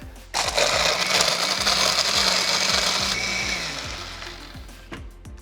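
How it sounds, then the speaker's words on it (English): A blender blending a blueberry fruit drink whirs loudly for several seconds, its motor steady and close, then winds down near the end. "put it all in the blender"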